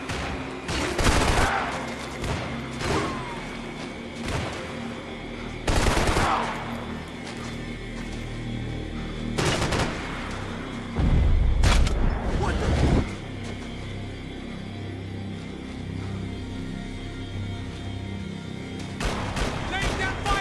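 Gunfire crackles through a Max Payne 3 firefight, heavy bursts arriving every few seconds over a continuous background din, with voices shouting between the volleys.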